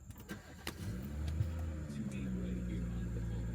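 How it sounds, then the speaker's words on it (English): A BMW G30 540i six-cylinder engine cranks and fires up, settling into a steady low idle heard from inside the car, preceded by a few clicks and faint cabin noises. "It's a nice six-cylinder sound, but it is not the perfect six-cylinder sound."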